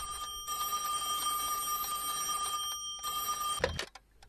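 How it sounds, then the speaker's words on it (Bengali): A cartoon telephone rings in a steady electronic trill that fills most of the clip, sounding close and alone, then cuts off with a brief clatter as it is picked up. "এখন আবার কে ফোন করছে?"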